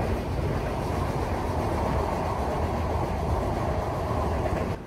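Benapole Express train runs along a newly built rail line, a steady loud roar of wheels and carriage rumble from inside, unbroken for several seconds with no voices.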